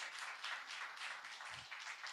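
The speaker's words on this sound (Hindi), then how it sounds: "सब लोग जोरदार ताली बजाए" Church audience at a Hindi sermon applauding loudly, a steady wash of many hands clapping throughout with no voices over it.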